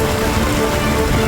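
Heavy rain pours steadily onto surfaces in Surat's Dindoli area, a dense, continuous hiss of drops with no pauses, loud and close, with no voices.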